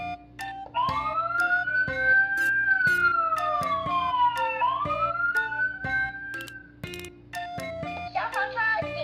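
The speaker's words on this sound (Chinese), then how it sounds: "哦咦哦咦，救护车来了，请让开。" Electronic siren from a multi-function toy emergency vehicle (Taiwan police car, fire engine and ambulance sound toy), its rising and falling wail sweeping up and down under a steady, looping beat.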